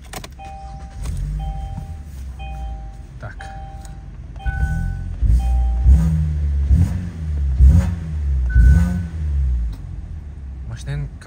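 A 2019 Kia Optima starts up, its engine catching and then revving in several rising pulses close by, with dashboard chimes beeping and someone speaking briefly.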